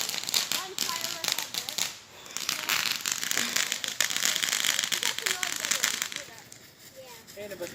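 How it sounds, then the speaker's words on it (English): Fireworks going off in the distance, a dense run of rapid crackles and pops that continues almost without gaps, with people talking over it throughout. "One firework at dark."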